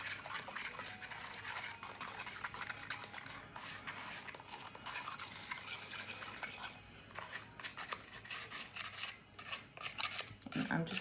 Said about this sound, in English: I'm just kind of scraping to make sure I get all that gorgeousness off the bottom